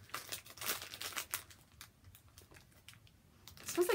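A plastic toy bag is torn open by hand, giving soft crinkling and ripping bursts that come and go, with a louder crackle at the end.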